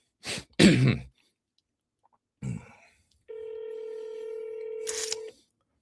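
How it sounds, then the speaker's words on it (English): Push-button telephone dialing: one long steady DTMF tone after a pair of short clicky bursts, fairly close and clear, with a brief throat-clear-like noise before and no speech over it. "See, I'm dialing."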